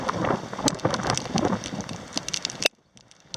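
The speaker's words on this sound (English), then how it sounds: "A little bit of rain, that's nice." Light rain patters steadily with scattered sharper drops, then cuts off abruptly near the end, leaving near silence.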